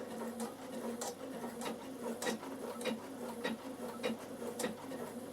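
A Bernina sewing machine runs slowly through a triple stitch with thick thread, giving a soft mechanical hum with evenly spaced ticks and thumps, fairly quiet and close, and no voices.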